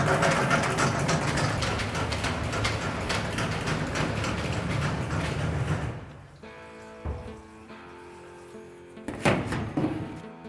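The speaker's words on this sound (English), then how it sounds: "In this first module of the system, we take off the ink from the dirty screen." Lotus Holland EVO Compact automatic screen cleaning machine stripping ink from a dirty screen, a loud rattling mechanical churn for about six seconds, then quieter whirring with intermittent clunks and a short burst of rattling near the end.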